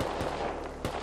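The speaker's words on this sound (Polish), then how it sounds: "Uwaga! Strzał! Dostało!" Gunfire in the survival video game Rust: two sharp shots about half a second apart, over a steady background of game ambience.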